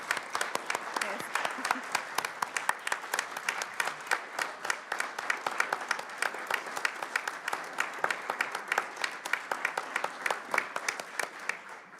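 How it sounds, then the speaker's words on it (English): Audience applause at a Narragansett town council meeting: a full room claps steadily and densely for about twelve seconds, sustained at an even level without a break. "let's give Jane a big round of applause and thank her for"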